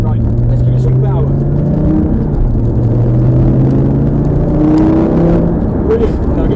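A Lamborghini engine accelerates under power, a loud continuous rumble with rising and shifting engine tones and no break in the sound.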